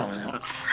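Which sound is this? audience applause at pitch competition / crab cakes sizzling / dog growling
dog growling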